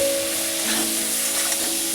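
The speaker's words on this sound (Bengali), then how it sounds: "এবার আমি বেগুনগুলো ভেজে নেব।" Salted, turmeric-coated brinjal slices frying in oil left over from frying fish, a moderate steady sizzle with a faint tonal hum underneath.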